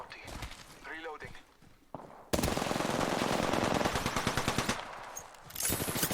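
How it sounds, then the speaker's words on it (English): Rapid automatic gunfire from a weapon in the video game Apex Legends, a sustained burst of dense cracking shots after a stretch of speech, with battle noise continuing around a voice. "I'm taking fire."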